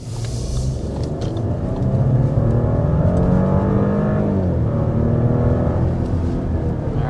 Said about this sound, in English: It's just so quiet, but it's also just has a little bit of a growl.